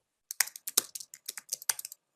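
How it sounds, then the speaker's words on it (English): Someone typing on a computer keyboard, a quick irregular burst of about fifteen crisp clicking keystrokes over two seconds, close and otherwise quiet. "I hear someone typing."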